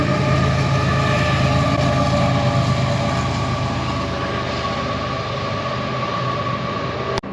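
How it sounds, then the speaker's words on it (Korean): A train rumbles loudly past at close range beside a Porsche 911 Targa 4, a steady heavy roar with rhythmic rail clatter that ends with a sharp cutoff. "기차가 막 지나갔습니다."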